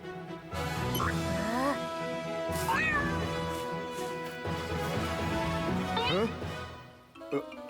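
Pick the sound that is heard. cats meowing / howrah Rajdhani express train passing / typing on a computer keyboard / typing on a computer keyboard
cats meowing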